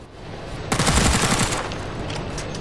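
A rapid burst of automatic rifle fire from an MK11 in the shooter game Ghost Recon Future Soldier, loud and close, lasting about a second before fading into a lingering echo.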